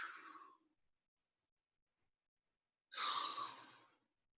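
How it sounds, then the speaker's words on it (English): Two slow, deep breaths taken during a home yoga stretch, each a soft airy exhale separated by a long silent pause, close and quiet with no talking. "Couple deep breaths."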